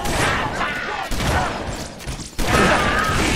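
Rapid sustained gunfire in the Halo: Reach video game on Xbox Series X, close and loud bursts with brief gaps between volleys.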